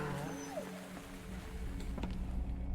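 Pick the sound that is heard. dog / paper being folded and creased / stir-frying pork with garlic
dog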